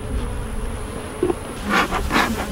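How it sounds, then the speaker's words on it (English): Honeybees hum in a dense, steady buzz at an open hive being split, with a few louder passes as individual bees fly close in the last second. "There's a lot of bees in this one."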